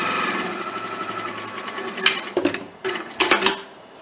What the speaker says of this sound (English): And giving that a quick line, sewing right through there.